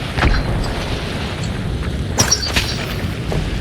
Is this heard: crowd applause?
no